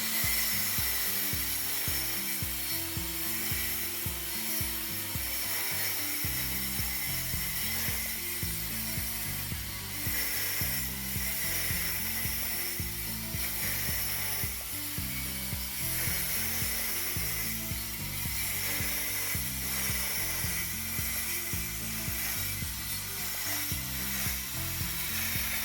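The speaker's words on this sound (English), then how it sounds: "I use a track saw to cut 1 3/4 inch strips from the leftover sapele board" A track saw rips 1 3/4 inch strips from a leftover sapele hardwood board, a loud, continuous cutting roar with a steady low pulsing that runs unbroken for the whole stretch.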